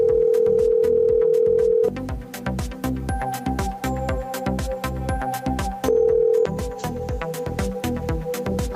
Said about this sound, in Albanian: Ndërkohë, unë po bëj një telefonat.